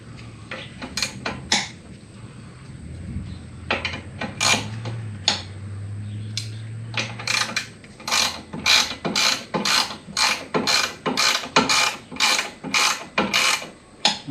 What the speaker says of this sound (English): Didn't you have a Ratchet one?